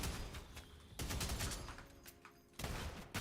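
Rapid bursts from a firework gun in the video game SULFUR, loud crackling volleys in three clustered runs separated by brief gaps, with no talking.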